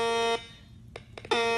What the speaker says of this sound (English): right when it rolls over the breach, it's going to trigger an alarm